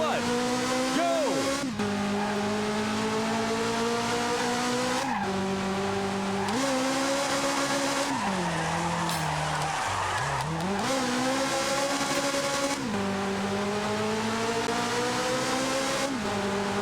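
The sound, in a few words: race car engine driving off in a retro racing video game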